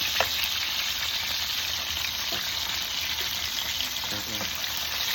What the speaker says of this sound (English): This red snapper head is still frying up.